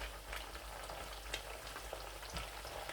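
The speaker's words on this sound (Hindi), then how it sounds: "कुछ देर मैं फ्राई करता हूँ अरवी को" Pieces of arvi (taro root) fry in hot oil until light brown, giving a dense, even sizzle with scattered soft pops over three seconds, close and unaccompanied by talk.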